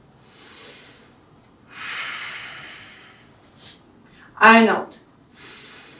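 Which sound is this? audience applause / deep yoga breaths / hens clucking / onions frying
deep yoga breaths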